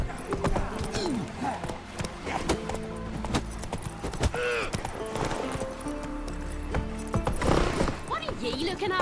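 Horse hooves clopping at a steady rhythm in The Witcher 3, with a whinny or two, running under in-game character dialogue and ambient game sounds.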